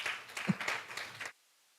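Brief, fairly quiet applause from a small room audience thanking food sponsors at a women-in-leadership event, clapping for about a second before stopping abruptly into silence.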